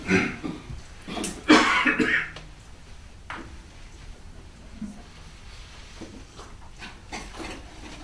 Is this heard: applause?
no